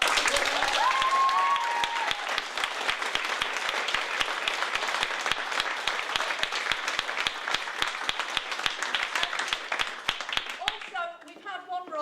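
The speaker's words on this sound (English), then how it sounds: "I want a really big round of applause for" Sustained audience applause for a singer at a club, dense steady clapping from a crowd throughout, with a brief sung or shouted note early on and voices emerging as the clapping tails off near the end.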